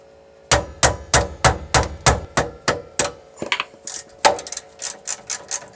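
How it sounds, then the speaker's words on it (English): Ratchet undoing 17 millimeter caliper bolts on a 900HP Toyota Supra brake job, a steady run of about a dozen sharp metallic clicks, then a brief pause and another quicker series, close and loud with no talk. "I'm going to undo this 17 millimeter bolt on top and the 17 millimeter bolt on the bottom"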